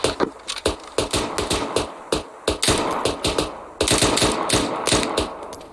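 Rapid automatic gunfire from a military simulation game, Arma 3, cracks in dense bursts and single shots, loud and close, with irregular rhythm and short gaps between volleys.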